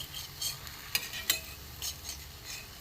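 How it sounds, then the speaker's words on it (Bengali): Mango malpua made with flour, a little semolina and sugar fries in a pan while being turned, a close, crisp sizzle with soft crackling bursts rising and falling over a few seconds. "হয়ে গেছে এটা উল্টো পাল্টে ভাজা"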